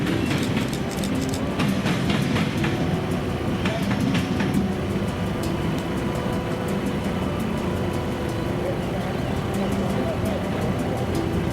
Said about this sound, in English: We were then completely jump scared by this westbound KCT light power move with a single Bumblebee Jeep for power.